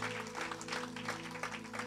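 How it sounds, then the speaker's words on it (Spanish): A church congregation gives a round of applause during a bilingual worship service, a faint, steady patter of clapping under a sustained low musical drone. "Give God a round of applause."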